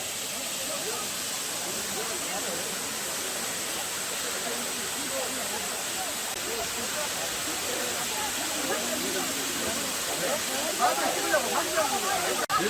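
The 60 m high Buril waterfall on Jirisan, a steady broadband rush of falling water heard close and continuous, with faint voices in the background.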